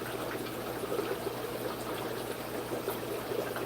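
A pump pushes RO water out through a hose in a continuous splashing stream over a low, steady mechanical hum, heard up close and alone.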